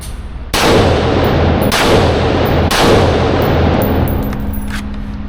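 Three loud, close rifle shots fired about a second apart, each a sharp crack followed by a long ringing echo, with faint metallic clinks and tail noise after the last.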